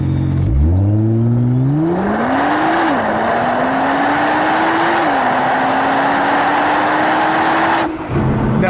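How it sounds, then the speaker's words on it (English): A 2015 Nissan R35 GT-R pulls away at full throttle without launch control, its engine note climbing steadily through several gear changes with brief dips between shifts, loud and close, then cutting off abruptly near the end. "you put your foot to the floor without doing the launch control"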